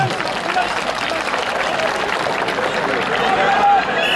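Crowd applause at a Manavgat oil wrestling event, a steady wash of clapping from a large outdoor audience, loud and continuous with crowd noise mixed in.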